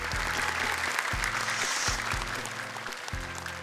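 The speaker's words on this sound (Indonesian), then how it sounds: "Selanjutnya, tepuk tangan juga untuk Abi Amir Faisal Fat." Audience applause greets a judge being introduced at a children's Hijaiyah letter challenge competition, a steady, dense wash of clapping that fills the whole stretch, with a low tonal musical drone running underneath.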